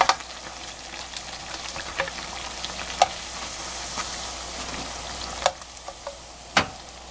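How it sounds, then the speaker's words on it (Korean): Steady crackling sizzle of thawed frozen flower buns frying in a little oil, with occasional louder pops and ticks scattered over the continuous hiss. "이렇게 기름을 조금 넣고 튀기면"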